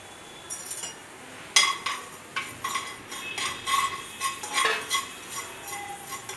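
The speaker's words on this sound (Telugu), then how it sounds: "ముందుగా ఇవి గసాలు మనం డ్రై రోస్ట్ చేసుకుందాం." Poppy seeds dry-roasted in a pan and stirred with a metal spoon, giving sharp scraping clinks and taps in an irregular rhythm, close and clear, with a rustle of seeds between strokes and no talking.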